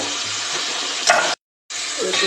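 Potatoes sizzling in hot oil with garlic paste and nigella seeds, a steady frying hiss with stirring scrapes, broken by a brief silent gap before the sizzle resumes.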